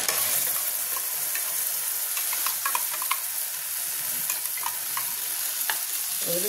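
Onions and masala paste fry in a hot pan for Bengali-style butter paneer, giving a steady close sizzle broken by scraping stir strokes, with no talking.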